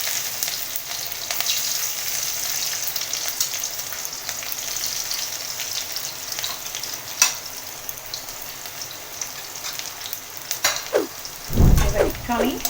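Panch phoron, chillies and crushed garlic sizzle in hot oil with a steady crackling fry, broken by a few sharper pops and a clatter of stirring near the end.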